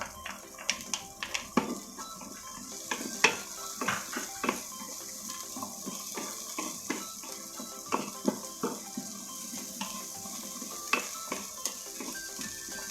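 Garlic and onion sautéing in a pan for a beef and bitter melon dish, a soft steady sizzle broken by frequent irregular clicks and scrapes of stirring, close and fairly quiet.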